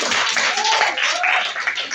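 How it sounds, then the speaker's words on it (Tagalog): Church audience at a Sunday fellowship breaks into clapping, a dense, steady patter of many hands close by that carries on for the whole stretch. "Sige na, palakpak na."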